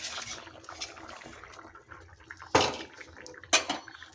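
Fried rohu fish is added to a boiling curry of pea greens and potatoes in a pot, with soft bubbling and light clinks, then two sharp metallic clanks of utensils against the pot.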